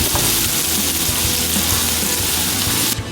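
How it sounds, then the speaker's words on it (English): Zucchini and onion frying in a skillet, a loud, continuous broadband sizzle that holds steady for the duration, cut off sharply near the end. "you're gonna add the zucchini as well"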